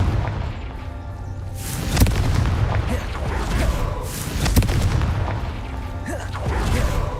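Confringo fire spells explode in Hogwarts Legacy as deep booms and sharp thuds, several blasts spread across the clip over rumbling game ambience, with spoken spell incantations and voices in between.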